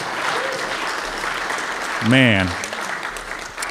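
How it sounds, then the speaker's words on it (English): An audience at a nuclear energy talk breaks into applause, a burst of clapping swelling briefly under a voice before fading back. "I'll take some applause for that."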